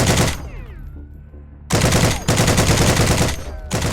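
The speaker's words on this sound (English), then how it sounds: "the US M1919 machine gun" A US M1919 machine gun fires in the video game Heroes and Generals, loud rapid bursts of automatic gunfire broken by a short gap, with a brief pause between the later bursts.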